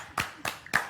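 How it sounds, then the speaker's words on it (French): A few people among friends playing a quiz game clap in three separate, close bursts, spaced about a quarter second apart in a quiet room. "On peut l'applaudir."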